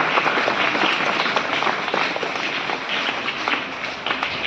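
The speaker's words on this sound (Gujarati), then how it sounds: "તો આપણે એમને તાળીઓથી વધાવીએ." An audience at a village Independence Day celebration applauds, a dense, continuous clapping that stays loud and even for several seconds, no talk.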